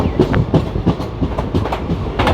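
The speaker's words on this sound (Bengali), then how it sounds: "এখন আমাদের ট্রেন এই সালার স্টেশন ছেড়ে বেরিয়ে যাচ্ছে।" The 13141 Teesta Torsa Express pulls out of Salar station, its wheels clacking over rail joints in a steady, close rhythmic beat with loud rumbling carriage noise throughout.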